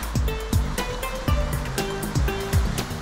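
River water flows in the Dera river, a loud, continuous rushing wash close by, with regular low thumping pulses running through it.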